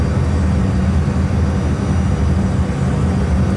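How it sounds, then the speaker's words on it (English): Steady low-frequency roar of an airplane flying low over New York, a continuous broadband engine drone at constant loudness with no talk. "New Yorkers, as you well are aware, would get very nervous with an airplane flying this low."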